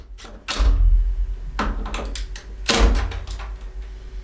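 Polytunnel door being hung on its timber frame: a few knocks and thunks of wood and hinge hardware, with handling rattles and one heavier bump partway through, close and moderately loud.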